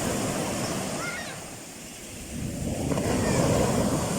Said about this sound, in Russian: Видно хороший прилив, еще прибойная волна